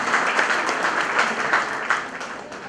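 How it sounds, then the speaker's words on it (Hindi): Audience at a foundation day event applauding steadily throughout, a dense wash of clapping with no talk over it. "आप सबकी तालियां की गूंज है"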